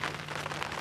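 Steady rain falls outdoors in windy weather at a fishing lake, a dense, continuous hiss of drops close by and moderately loud with no voices.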